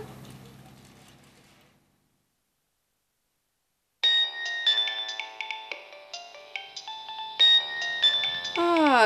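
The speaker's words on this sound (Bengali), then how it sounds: "তোমার তো এখন ফোন আসা শুরু করে দিয়েছে" A mobile phone ringtone for an incoming call plays a bright, looping melodic chime, loud and close, starting after a brief silence and repeating its tune to the end.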